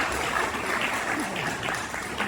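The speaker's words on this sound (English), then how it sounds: "Would you join me in giving them a round of applause" Audience applause at an award dinner in an Elks Club hall, a dense and steady clapping of a sizable crowd, moderately loud and sustained throughout, with faint voices mixed in.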